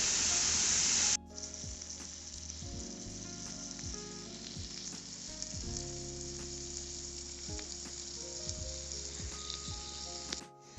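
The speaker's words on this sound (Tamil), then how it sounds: "இப்போ எல்லா பக்கமும் நல்லா திருப்பி விட்டு நல்லா வறுத்தாச்சு" Afghani-style chicken pieces fry in oil in a pan with a steady, close sizzle and occasional soft clicks from the pieces being turned, with no voices.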